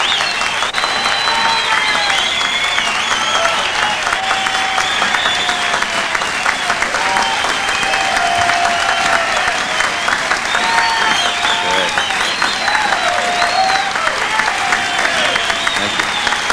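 A live audience applauds and cheers without a break, a dense, steady wash of clapping with whoops and shouts rising through it, loud and close throughout.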